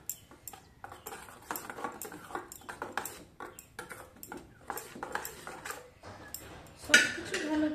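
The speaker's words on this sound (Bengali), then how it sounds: "এবার সব কিছু ভালো করে মিশিয়ে নেব।" A spoon stirs chili powder into the other ingredients for a tomato paratha dough, tapping and clinking against the bowl in an irregular, close rhythm with a sharper knock near the end.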